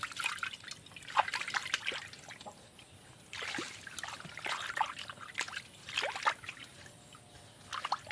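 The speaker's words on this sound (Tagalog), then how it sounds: "Ito yung hugasan ang kalaha." A wok (kawali) being rinsed and scrubbed with water, heard as irregular bursts of splashing and trickling that come and go at close range, with quieter gaps between them.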